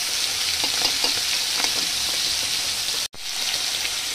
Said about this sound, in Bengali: মাছটা বেশি ভাজার দরকার নেই, এর সঙ্গে ভালোভাবে ভাজা হয়ে যাবে।